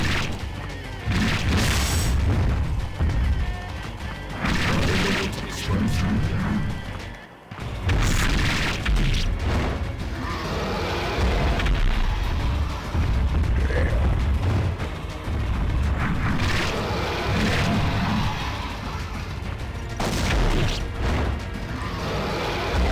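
Cannon fire and explosions in the video game Sword of the Berserk: Guts' Rage, heavy booms and crashing impacts in dense, repeated bursts throughout, with a brief lull partway through and voices talking over the action.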